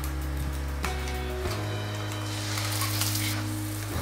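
Capsicum chutney sautéing in a pan with dried red chillies and curry leaves, a continuous soft sizzle with a low hum and a couple of faint clicks, no voices.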